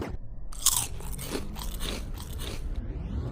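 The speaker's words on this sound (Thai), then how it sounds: "มันคือเส้นมันฝรั่ง กรอบกรอบแบบ ปั๊บ" Loud, close crunching comes from biting into a Brazilian burger topped with crispy potato sticks, with repeated brittle crackles and chewing.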